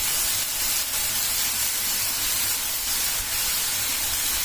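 Onions frying hard in a pan, salted, giving a loud, steady, close hiss and sizzle with no break and no talking.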